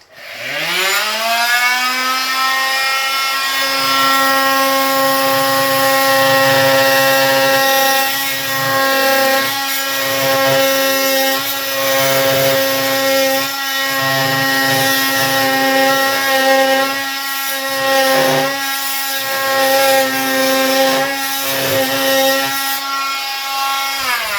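A power tool plunges into a tiled shower wall to cut channels for mounting a marble corner shelf. A loud, steady, high-pitched whine holds for over twenty seconds, with faint grinding shifts as the blade bites into the tile.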